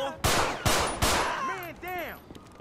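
Gunfire in GTA 5 during a gang brawl, three sharp close shots in quick succession followed by shorter rattling pops and voice-like sounds.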